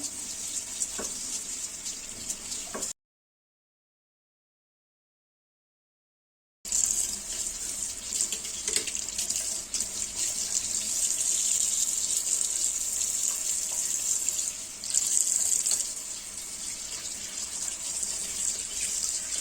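A kitchen tap runs steadily while frozen trout is rinsed and scaled under the water. The close, hissing gush is broken by a few seconds of silence, then resumes with slight changes as the stream hits the fish.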